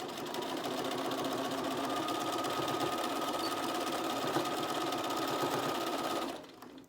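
Sewing machine stitching a reusable washable medical mask, running steadily and loud at close range for about six seconds before stopping abruptly, with no voices.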